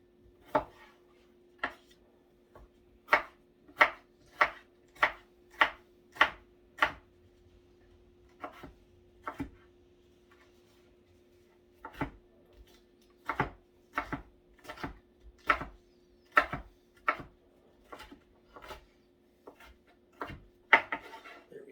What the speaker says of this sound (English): while we're finishing up chopping these peppers